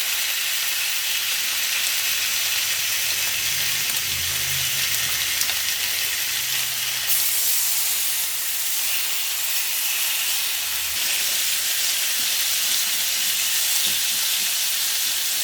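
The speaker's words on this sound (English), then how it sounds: "I don't like putting bacon into a cold pan." Strips of bacon sizzle and hiss steadily in an already warm frying pan, a dense, continuous crackling spatter that stays loud and close throughout with no voices.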